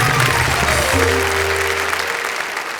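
A crowd applauds warmly, loud and dense, the clapping easing slightly toward the end.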